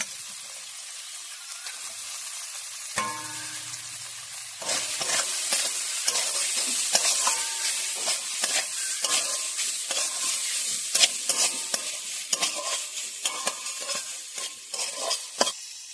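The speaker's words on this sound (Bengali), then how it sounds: "মশলা কষা হয়ে গেছে আমি খোলগুলো দিয়ে দেব" Chopped banana stem and spices frying in a pan for a vegetarian Bengali thor bori ghonto: a quiet start, then a burst as the pieces go in, followed by steady loud sizzling and spatula scraping.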